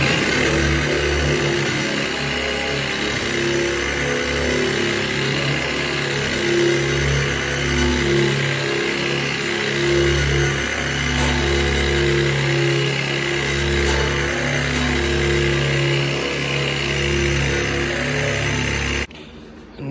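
A buffer spinning a wire wheel runs against raw steel in a continuous, loud, close grinding whir with a steady motor hum that holds throughout and cuts off right at the end.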